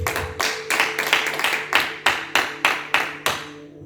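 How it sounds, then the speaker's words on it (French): A church congregation claps in unison, a rhythmic series of about ten loud, even handclaps close by that build and then stop. "Acclamons la parole du Seigneur Jésus"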